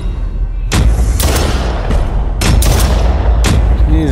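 Booming blasts in the VR game The Brookhaven Experiment, several heavy loud explosions arriving in irregular succession over a constant rumbling din, with no talk.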